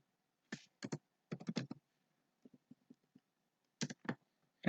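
Typing on a computer keyboard while entering transaction details into a form, heard as quiet clustered bursts of rapid keystrokes separated by short pauses, close and with no talking.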